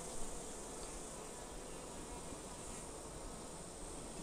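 Honeybees buzzing steadily around an open hive during a brood inspection, a continuous dense hum that holds at an even level throughout, with no voices.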